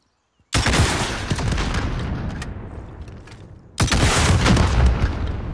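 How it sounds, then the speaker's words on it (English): In the Warzone video game, a rocket launcher fires with a sudden loud blast and a long rumbling tail, then a second heavy boom a few seconds later, with no talking. "Rocket launcher."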